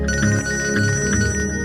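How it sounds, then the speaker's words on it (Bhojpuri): A phone rings with an incoming call in a Bhojpuri family drama, a steady electronic ringtone with a repeating melodic pattern playing loud and close throughout, with no voices over it. "समधे जी के फोन आवता।"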